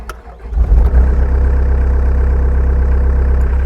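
A 2019 Hyundai HW60 wheeled excavator engine cranks briefly and catches, then settles into a steady, loud, low diesel idle that runs on alone.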